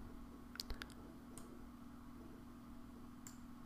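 A few quick computer mouse clicks while working in editing software, a short cluster of sharp ticks early on and another lone click later, close and faint over a steady low hum.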